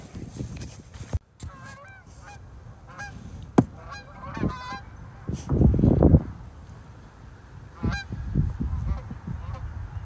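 Several geese honk loudly and repeatedly close by on a farm in cold weather, harsh nasal calls overlapping in bursts with a gusty rumble underneath.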